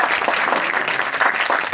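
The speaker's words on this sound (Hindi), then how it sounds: "जोर से ताली बजा कर उसकी महिमा जोर से हालेलुया।" Loud, sustained clapping from a church congregation at a Hindi-language preaching service in Uttarakhand, a dense even wash of applause filling the whole moment with no speech over it.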